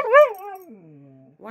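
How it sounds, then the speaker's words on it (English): A single drawn-out bark, a sharp yip sliding down into a long whining moan, close and fairly loud, with a brief sound starting at the end. "Why are you barking?"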